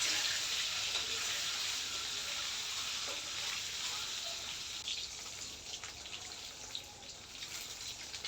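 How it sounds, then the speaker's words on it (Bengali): Eggs fry in mustard oil in a pan while being turned, giving a steady, fairly loud sizzling hiss that eases slightly toward the end, with a few faint scrapes and no talking. "একটু সুন্দর করে মিডিয়ামভাবে ভাজবো, একেবারে কড়াভাবেও ভাজবো না, আবার একেবারে কমও ভাজবো না।"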